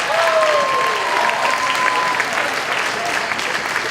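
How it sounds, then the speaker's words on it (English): Audience applause for students at a school honors convocation, steady and dense throughout, with a faint sustained tone running beneath the clapping. "Give a round of applause to all our students tonight"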